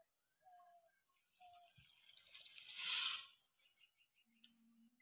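Water is poured into a wok for a village khud buri of broken rice. It makes a soft, faint stream that swells to a brief splashy peak, then fades, with small clinks and scrapes around it.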